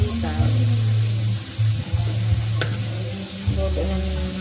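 Pork chop fries in a home kitchen pan, a continuous sizzle with a few scraping stirs, heard beneath low voices and background sound.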